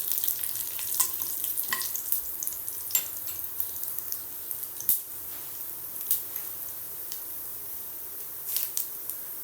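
Dried red chillies sizzling in hot oil for a keerai kadaiyal, a steady close frying hiss with small crackles and pops throughout, no voices.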